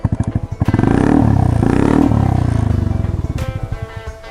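A 2018 Honda Beat motorcycle fitted with a DJ Custom aftermarket exhaust revs up close and loud, its rapid pulsing exhaust note climbing, holding, then settling back to a throbbing idle.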